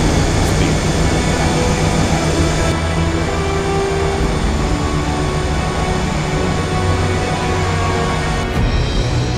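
An airliner's engines roar at full thrust as the crew aborts a landing in a go-around, the sound a loud, steady broadband rumble with a constant drone throughout.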